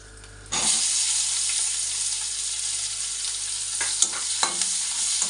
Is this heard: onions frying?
yes